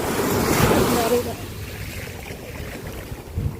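Waves washing onto a beach, a broad hissing surge that swells loud early, then settles into softer steady wash and rumble.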